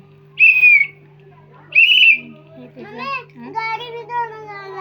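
A child blows two short, shrill bursts on a toy whistle worn on military-style clothing, each loud and close, followed by a child's chatter and an adult speaking.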